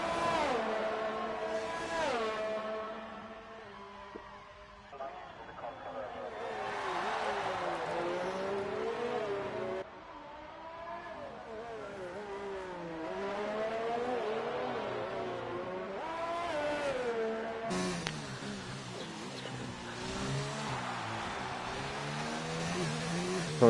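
F1 race cars lap the Azerbaijan street circuit in an F1 video game, their engines rising and falling in steady revving sweeps as cars pass and shift gears, with a commentator talking over them throughout.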